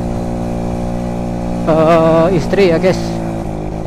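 A Yamaha V80 motorcycle engine hums steadily at a low, even pitch throughout, while someone talks loudly over it for a couple of seconds in the middle.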